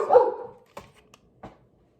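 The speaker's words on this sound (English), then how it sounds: "My dog's barking again." Pet dog barking indoors in a home kitchen: one loud bark followed by two shorter, quieter yips, close by and with no talk over it.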